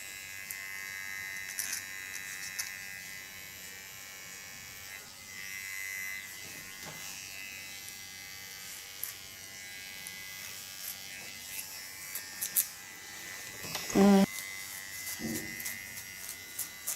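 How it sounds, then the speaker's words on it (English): A small electric hair clipper buzzes steadily while cutting and angling a neckline during a haircut, a low continuous hum with brief louder bumps and one sharper burst toward the end. "also with the small clipper I use the angle"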